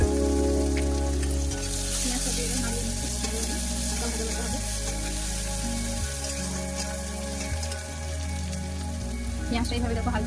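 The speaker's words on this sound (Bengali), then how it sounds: "এরপর আমি এখানে পেঁয়াজ দিচ্ছি।" Onions frying and sizzling in hot oil in a pan with dried chillies, cooked for a rohu fish curry; a steady loud sizzle runs throughout with occasional stirring clatter, while a person talks over it.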